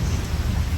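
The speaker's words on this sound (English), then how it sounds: "Thunderstorm now." Heavy tropical downpour in a thunderstorm on Siargao, a loud, dense wash of rain with a deep low rumble beneath, steady throughout.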